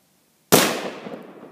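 An SKS rifle firing a 7.62x39 round into a concrete target gives a single sharp, loud crack from silence, with a long, rough decay trailing off behind it.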